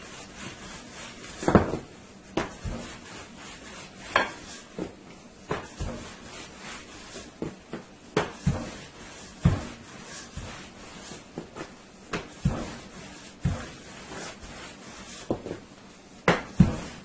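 Roti dough being rolled out with a rolling pin on a wooden surface, giving a steady series of soft rubbing and knocking strokes at a near distance with no talk.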